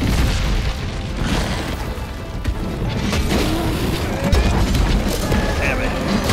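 A dive-bomb attack in Monster Hunter World sets off a heavy, booming explosion amid dense, chaotic battle noise with crashes and pops, loud and sustained throughout, with a player shouting over it.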